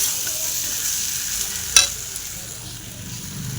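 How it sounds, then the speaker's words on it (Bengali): Fried potatoes and spices stirred together in a hot pan, a soft continuous sizzle with one sharp spoon scrape midway, close and without voices. "ভাজা আলুটা দিয়ে মশলাটা দিয়ে আবার বেশ করে এরকম একসাথে মিক্স করে নেব।"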